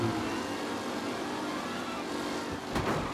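A car accelerates in the Mafia Definitive Edition racing game, its engine a steady, continuous drone that holds throughout with a brief swell near the end.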